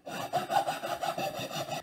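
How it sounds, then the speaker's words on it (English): Hand file rasping back and forth along a wooden WWI trench club, a steady run of about eight close, rough strokes with no talking. "So just take your hand file and just start filing."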